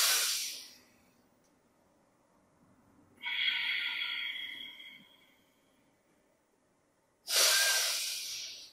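Deep breathing during a seniors' yoga exercise: a long audible breath at the start, a sustained airy inhale or exhale in the middle, and another strong close breath at the end, with quiet pauses between and no talking.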